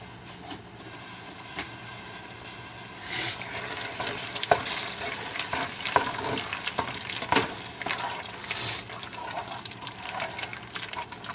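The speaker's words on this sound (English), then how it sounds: "we'll get it good and stirred up" Pepper mac and cheese stirred in a pot, a steady wet scraping and sloshing with a few louder spoon knocks, close and alone without talk.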